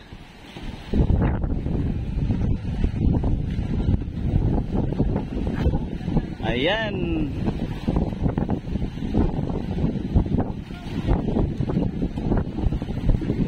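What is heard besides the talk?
strong wind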